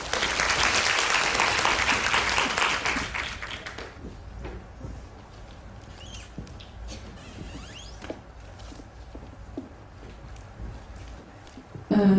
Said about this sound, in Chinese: 请大家热烈掌声欢迎。